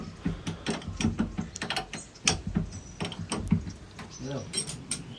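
Two 17 mm wrenches work loose the nut on a boat's propeller shaft coupling at the reverse gearbox, giving close, irregular metallic ratcheting clicks and clanks.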